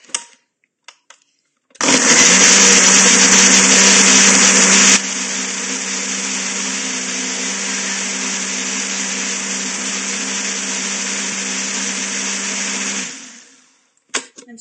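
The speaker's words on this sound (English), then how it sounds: "let's send our sweet potato smoothie to the blender" A countertop blender whirs through a sweet potato smoothie, starting abruptly at high speed, dropping to a steadier lower pitch after a few seconds, then running evenly for about eight seconds before winding down and stopping.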